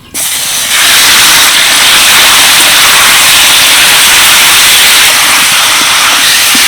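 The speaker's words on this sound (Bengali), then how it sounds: "এবার এই ম্যারিনেট করা চিকেনটাকে আমি ভেজে নেব তার জন্য কড়াইতে দিয়ে দিচ্ছি সাদা তেল তেল গরম হয়ে গেছে এবার মাংসগুলো দিয়ে দিচ্ছি" Marinated chicken drops into hot white oil in a wok and sets off a loud, dense, hissing sizzle that holds steady and close after a brief quieter start.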